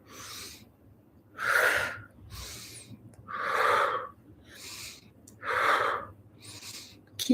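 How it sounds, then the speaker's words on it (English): Deep, slow breaths from a guided internal alchemy breathing exercise, with four strong breath cycles rising and falling in a steady rhythm, heard up close with no talking. "another round of breathing"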